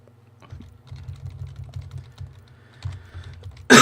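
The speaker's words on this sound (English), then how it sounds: "Sometimes you have to use the keyboard for some things, for some reasons." Keys clatter on a computer keyboard during a Mass Effect Andromeda play session, giving rapid, irregular clusters of close, crisp taps with brief pauses between them. A sharp loud burst cuts in at the very end.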